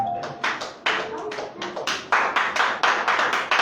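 A church congregation claps to acclaim the Lord at a bilingual French and Spanish service, about a dozen sharp, irregular bursts of applause rising and falling, close and fairly loud.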